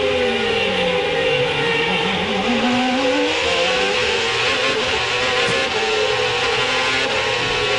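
Onboard a CART race car at the Long Beach street circuit, the engine screams loud and close, its pitch rising and falling through gear changes heading toward the hairpin, with no talk.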